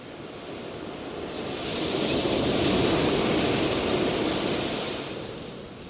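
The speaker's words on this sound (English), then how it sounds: "The Atlantic Ocean breaking onto Myrtle Beach in South Carolina." Atlantic Ocean waves break onto Myrtle Beach, South Carolina, at low tide on a sunny morning: a broad, steady surf wash that swells, peaks in the middle and eases back, with no voices.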